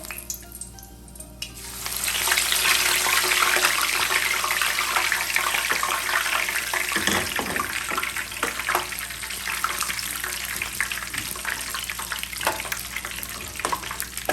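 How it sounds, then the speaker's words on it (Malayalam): Curry leaves hit hot oil and crackle into a loud, steady sizzle, close to the pan, with occasional pops and stirring sounds and no talking. "കറിവേപ്പില ഒന്ന് വറുത്ത് കോരിയിട്ട്"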